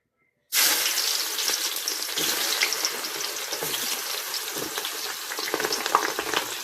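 Oil hisses and crackles steadily as bay leaf and onions drop into a hot pan, a sudden loud onset followed by continuous close frying sizzle with no voices.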